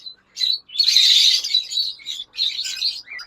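Lovebird breeder pairs chirp up close in a rapid run of high, shrill tweets and squawks in short overlapping bursts, with no talk.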